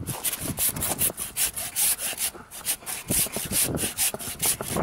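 Hand saw cutting through the trunk of a large tree, with steady rhythmic back-and-forth rasping strokes, loud and close, continuing without pause and with no talk.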